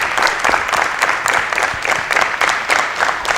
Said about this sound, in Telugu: గట్టిగా చప్పట్లు తగిలించుదా